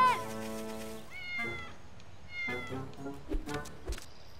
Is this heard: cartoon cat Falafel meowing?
yes